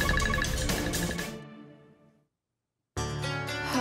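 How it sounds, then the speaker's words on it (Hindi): A phone ringtone plays unanswered indoors, a steady electronic melody that cuts off into silence before resuming, with no talking over it. "कुहू, मैं तुझे कब से फोन कर रही हूँ, तू फोन उठा क्यों नहीं रही है?"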